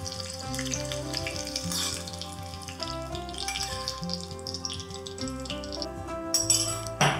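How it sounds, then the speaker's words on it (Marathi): Hot tempering of mustard seeds and green chillies poured over sandwich dhokla, a steady crackling sizzle with popping seeds running throughout, fairly close and with no voices. "आता ही फोडणी किंवा हा तडका घालूयात ढोकळ्यावर"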